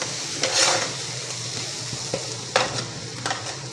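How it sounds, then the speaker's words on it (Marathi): Green chillies sauté in a hot kadhai for tomato chutney, giving a steady bright sizzle with a few spatula scrapes and clinks against the pan, close up and with no talking. "कढई आपली छान गरम झालेली आहे, त्याच्यामुळे मिरची लगेच परतली जाते"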